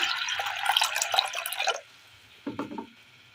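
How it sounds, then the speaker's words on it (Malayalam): Water pours steadily into a pan of soaked green gram for under two seconds, then stops; a brief splash or clink follows. "ഇതിലേക്ക് ആവശ്യമായ വെള്ളം ഒഴിച്ച് കൊടുക്കാം"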